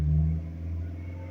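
A car engine running on gas-station fuel contaminated with rusty water revs up with a low rumble, then eases back down to a steadier rough drone, close and alone.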